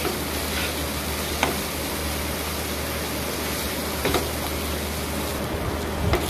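Spice paste for katla fish curry fries in oil, giving a steady, close sizzle with an even hiss throughout and a few faint scrapes from stirring, with no talk.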